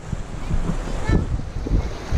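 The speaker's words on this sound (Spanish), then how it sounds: "Ahí va llegando el agua." Ocean waves wash onto a beach, a steady close rushing surge of water with wind buffeting the microphone throughout.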